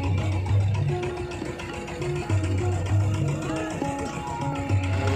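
A boat carrying a group of people on the wide Tista river near the Tista Barrage: a steady, droning motor hum with people talking over it throughout.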